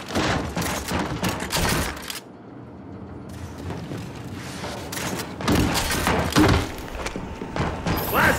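Gnasher shotguns firing in a Gears 5 two-versus-two match: loud close blasts in rapid bursts, a brief lull, then another heavy volley of shots and thuds toward the end.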